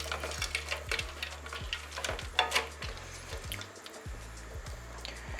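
Frozen peas being stirred into stock in a pan for vegetable samosa filling, giving soft wet stirring, light bubbling and occasional utensil scrapes at a quiet, close level.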